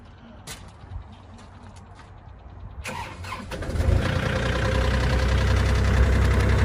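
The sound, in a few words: cold start of a 2020 Kubota KX040-4 excavator engine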